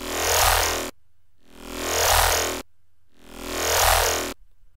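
Synth bass played without the WoW filter, sounding as three loud sustained notes that each swell and cut off sharply, with short silent gaps between them and no talk.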